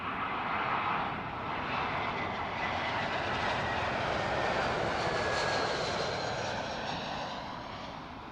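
A shuttle airliner arriving from Manchester roars in to land at Heathrow Airport, a loud, steady, broadband jet rumble that fills the whole stretch and eases slightly at the end, with no talking.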